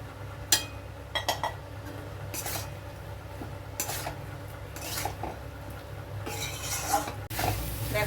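Prawns go into spice paste frying in a pan for a Bengali-style taro and prawn curry, bringing a few sharp clinks of utensil on metal and stirring scrapes over a low steady sizzle, with no talking.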